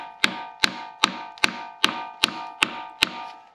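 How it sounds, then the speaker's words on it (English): Hammer tapping an oil pickup tube into place on a junkyard LS 6.0 V8 engine through a wood block: eight evenly spaced, sharp metallic knocks, close and loud, with no talking. "I'm going to use the proper tool, which of course is a hammer."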